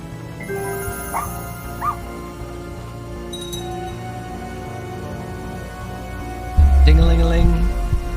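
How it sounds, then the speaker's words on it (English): In the video game Little Misfortune a dog gives short yips and whimpers over a tonal music bed, then barks louder near the end, while a person talks over it. "Oh, hey, doggy."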